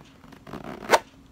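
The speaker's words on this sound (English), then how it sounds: "So it has a zipper here. So this is where you open it up." A zipper on a shoe package is pulled open up close, a short quiet zip that rises to a sharp bright peak near the end, with soft handling rustle before it.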